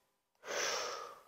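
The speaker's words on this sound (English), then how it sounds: "I'm being extra loud with my breath so you can hear me." One loud, drawn-out exhale during a breathwork and abdominal exercise, starting suddenly after a short silence and fading gradually, close to the microphone.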